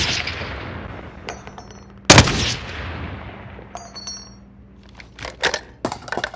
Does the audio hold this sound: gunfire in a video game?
yes